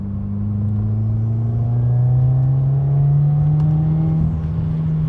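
A tuned 2015-2021 Subaru WRX with a Cobb Accessport accelerates hard, its engine drone rising steadily in pitch for several seconds, loud and close with no talk.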